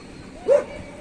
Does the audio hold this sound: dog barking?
yes